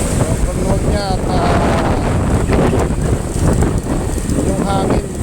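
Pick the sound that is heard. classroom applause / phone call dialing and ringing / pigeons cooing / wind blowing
wind blowing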